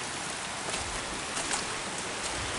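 Steady rain patters outdoors around fish tanks, an even broadband hiss with scattered louder drops, fairly close and unbroken, with no one talking.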